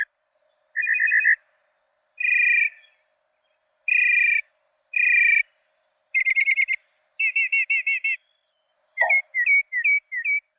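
A mockingbird sings clearly in separate bursts of repeated whistled and buzzy phrases, each phrase type changing, with short silences between, close and loud.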